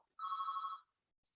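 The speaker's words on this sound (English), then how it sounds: "that's my fax machine ringing there in the background" A fax machine rings once in the background, a single steady electronic tone lasting under a second, faint and distant in an otherwise quiet room.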